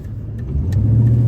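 A 1995 Ford Mustang fitted with an SVE Mongoose shifter and brass bushing drives along, its steady mid-pitched engine hum and road rumble building slightly, close and continuous with no talking.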